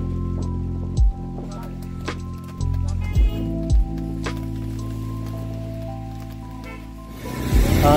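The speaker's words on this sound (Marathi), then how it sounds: "मस्त पाऊस पडतोय घाटामध्ये" Rain falls steadily on a mountain ghat road near Panchgani in the monsoon, heard near and continuous over a low idling engine hum, with a few sharp knocks and thumps along the way.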